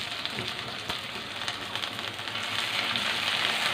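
Frozen tomatoes hit a pan of softened, browning onions for a fish curry, giving a steady, moderately quiet sizzle with faint crackles and a slight swell toward the end, no talking.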